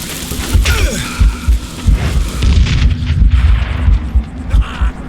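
Heavy, booming gunshots in the video game Call of Juarez: Gunslinger, several loud thumps fired in an uneven series over a dense, rumbling game soundscape.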